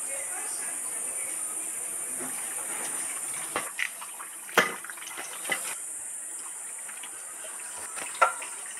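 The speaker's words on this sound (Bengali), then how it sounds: "এবার গুছিয়ে ধুয়ে নেব" Water runs from a tap as freshly cut fish is rinsed, a soft steady flow broken by a few sharp splashes and knocks, with faint voices in the background.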